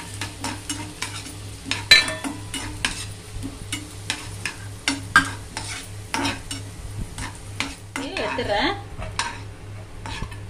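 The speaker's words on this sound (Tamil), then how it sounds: "அதுலேயே கொஞ்சம் சேமியா போட்டு வறுத்து எடுத்து" Vermicelli and cashews roasting in ghee for a festival feast, with a soft ongoing sizzle and repeated scraping stir strokes and light pan clatter close by, over a steady low hum.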